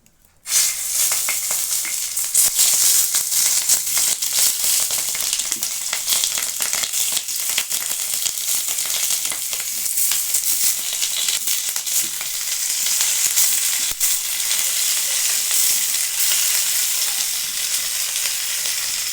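Loud, steady sizzling of stuffed chillies frying in hot oil on a griddle over a wood-fired stove, continuous hiss throughout with no voices.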